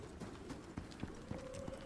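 Horse hooves in the survival video game Icarus thud faintly in a few irregular steps inside a cave, quiet and close under a low background hum.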